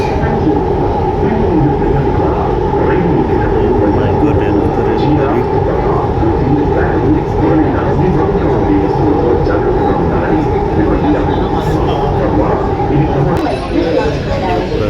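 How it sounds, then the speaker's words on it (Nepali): A Hyderabad metro train passing, a loud steady rumbling roar with a rushing broadband hiss that stays close and constant the whole time, heard from within the moving train, with a voice talking over it. "यहाँबाट रेल गइरहेको छ रेल"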